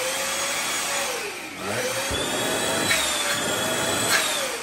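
A corded Bissell Featherweight stick vacuum cleaner runs close by with a steady motor whine that shifts in pitch as it works, and a voice speaks briefly over it.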